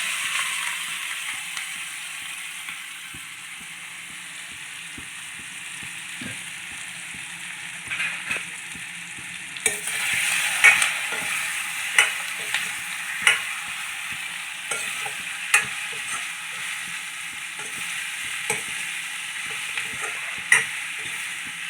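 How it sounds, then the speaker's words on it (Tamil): Raw plantain mixture frying in a pan, a steady hiss that grows louder partway through and is punctuated by a series of sharp spatula taps and scrapes at intervals of a second or so, close by, no talking. "இப்போ இந்த மிக்ஸ் பண்ண வாழைக்காவை நம்ம போட்டுக்கலாம்."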